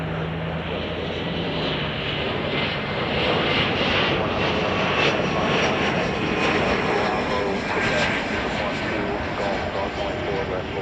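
An airliner arrives at Chicago O'Hare airport, its engines a continuous, broad roar that swells gradually as the plane passes, with voices faintly audible beneath the noise.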